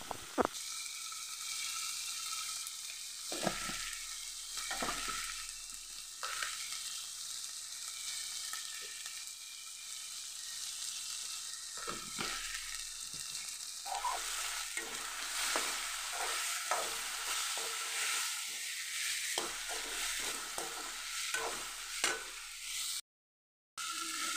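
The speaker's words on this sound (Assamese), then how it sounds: "আলুখিনি অলপ ভাজি ল'লোঁ এনেকৈ" Potatoes sizzle in a pan as a cooking utensil stirs them, with repeated scraping strokes over a constant quiet frying hiss, a brief silent gap near the end.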